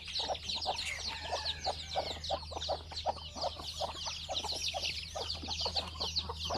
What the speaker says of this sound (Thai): นี่ลูกไก่ได้อาทิตย์เดียวครับผม